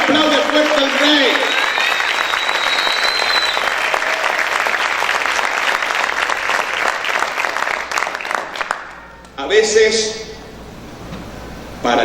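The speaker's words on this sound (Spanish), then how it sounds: "Aplaude fuerte al Rey." A church congregation applauds loudly for the King during a worship service, giving sustained dense clapping with crowd noise under a voice, which tapers off near the end before a brief spoken passage.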